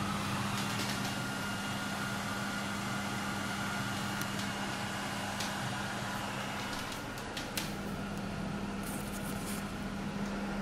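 The extraction fan of a homemade paint booth blows air outdoors with a steady, even whoosh and a constant low motor hum, close and unbroken throughout.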